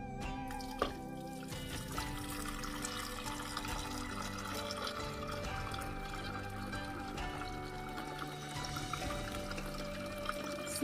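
Water pours and trickles steadily into a Cuisinart 12-cup grind and brew coffee maker, a soft continuous splashing with a faint hum underneath and a small clunk near the start.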